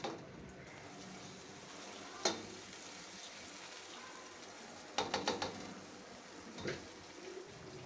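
Masala with tomatoes, chillies and garlic-ginger paste sizzles steadily in a pot while being roasted for beef pulao, with a few sharp clinks of a spoon against the metal stirring it.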